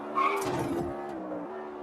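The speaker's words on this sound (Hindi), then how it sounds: "कभी ब्रेक चीखते तो कभी इंजन।" Engine drone with a high screech of brakes and tires from a car simulator video game, set on a foggy mountain road beside a cliff drop; a steady mid-level rumble runs through the short stretch, with the squeal rising early on.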